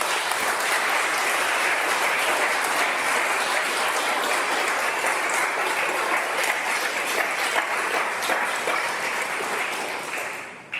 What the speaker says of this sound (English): from the fellows who were clapping particularly loudly